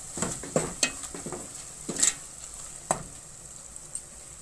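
Keema being stirred with turmeric and Kashmiri chilli in a frying pan for Karachi-style aatishi keema, with a soft sizzle under a few sharp spoon-on-pan clinks and scrapes.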